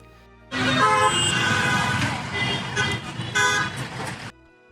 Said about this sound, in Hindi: यहाँ लोग बात बात पर हॉर्न बजाते हैं